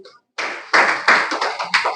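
An audience at a DXN product meeting claps hands loudly and close by in a quick burst of overlapping claps that swells into brief applause.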